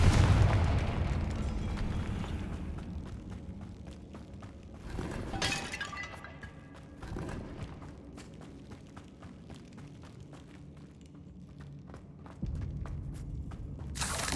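Confringo fire spells explode in Hogwarts Legacy inside a decaying catacomb: a loud blast opens, then fiery bursts and crumbling debris rumble at intervals, with softer footsteps and clatter between them and a final booming hit.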